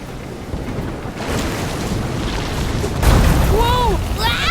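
Storm-tossed sea in the Visions of Mana video game, with a steady loud roar of wind and surf, a heavier wave crash surging in about three seconds along with swooping tonal game effects.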